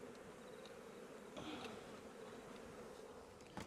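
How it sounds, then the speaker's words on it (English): Honeybees swarming around an organically managed hive, a dense continuous buzz of many wings with brief louder passes close by, steady and alone. "Alright, let's try and get these bees back in here."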